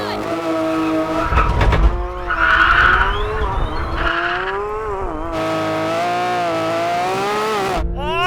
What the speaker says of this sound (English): are your tyres suitably warm then, Tommy? Are you going to get a better launch?